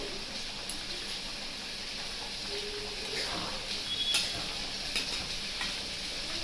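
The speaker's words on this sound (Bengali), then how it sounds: "দেখো ঝোলটা ফুটছে" Fish curry gravy boiling in a pot for a hilsa fish dish with potato and eggplant, a faint steady bubbling hiss with a few soft clinks and a quiet voice in the background.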